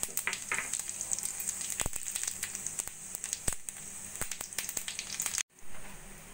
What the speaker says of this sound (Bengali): কড়াইতে তেল গরম করে নিয়েছি, দিয়ে দেব জিরে, তেজপাতা, 2টো এলাচ ফোড়ন।